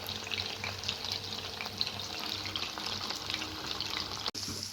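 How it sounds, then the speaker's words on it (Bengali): Sliced onion and capsicum fry lightly in hot oil for a chilli chicken dish, making a continuous close crackling sizzle with faint stirring scrapes throughout and no talking. "এখানে দিয়ে দিয়েছি হচ্ছে পেঁয়াজ ক্যাপসিকাম, একটু হালকা ভাজা ভাজা হয়ে যাবে"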